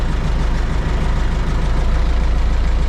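DongFeng 404 tractor engine running in frost, a loud steady low rumble with a rough, uneven diesel pulse, close by, with no talk.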